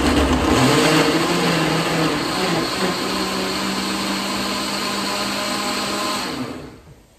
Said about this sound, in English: I am just gonna blend these down